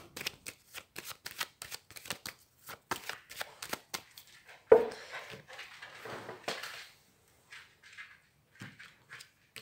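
Tarot cards shuffled and cut by hand, a rapid run of crisp riffling flicks followed by a sharper slap as the deck is cut, then softer scattered card taps, close and alone.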